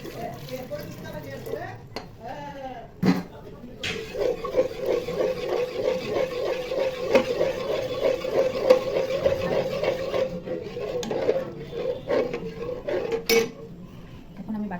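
Cornflour being stirred little by little into sugar syrup in a pan over a low flame for Bombay Karachi halwa, a steady clinking and scraping of utensil against pan that runs continuously at moderate loudness.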